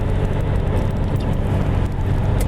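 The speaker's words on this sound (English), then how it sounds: "as you can hear at highway speeds, there's more road noise and wind noise than there is exhaust" Cabin of a modified 2005 Subaru Legacy GT wagon cruising at highway speed, filled with a steady, loud roar of tire and wind noise and a low droning rumble, with no voices.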